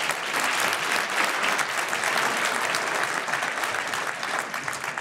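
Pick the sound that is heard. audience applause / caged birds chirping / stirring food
audience applause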